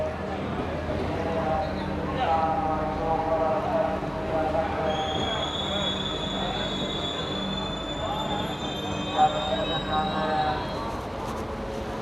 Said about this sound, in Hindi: ये रहा हमारा लोकोमोटिव जो आ रहा है